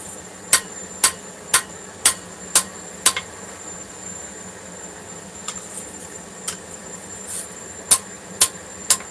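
A hammer strikes a forged blade on an anvil to correct its bevel: six sharp, ringing blows about half a second apart, a pause with a couple of lighter taps, then three more even strikes, close and clear with no talk.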